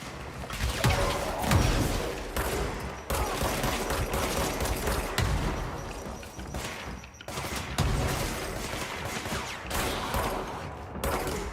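Gunfire and a grenade blast in Control come as loud, continuous bursts of shots with heavy low-end thumps, one slight lull midway, and no talking over it.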